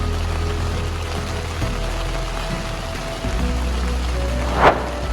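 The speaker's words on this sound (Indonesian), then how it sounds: "Tidak lama terdengar jatuhan air hujan dari langit." Steady rain falling at night at the Kali Kebo campsite, a dense continuous hiss with a brief louder splash near the end.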